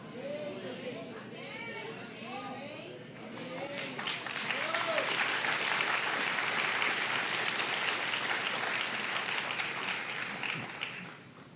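A church congregation breaks into applause after a preacher's voice, the clapping swelling into a broad, sustained roar with crowd chatter before fading near the end.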